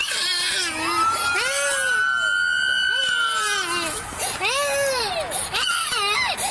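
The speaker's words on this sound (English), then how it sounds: "Kid is alert and crying." A young child at a roadside crash scene wails and cries loudly in rising, repeated sobs, close by, with adult voices of police and others talking over and around the crying.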